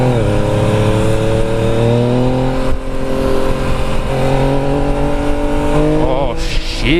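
A 2017 Yamaha FJ-09 motorcycle accelerates hard, its engine note climbing steadily through the revs in a loud, continuous pull with a gear change near the end.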